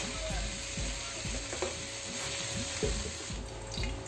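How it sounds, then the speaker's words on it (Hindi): Long potato strips fry in hot oil in a kadhai, giving a steady, close sizzle with repeated scraping stir strokes throughout and no talking. "एक कढ़ाई लेंगे और उसमें लंबा कटा हुआ आलू को थोड़ा सा फ्राई करेंगे"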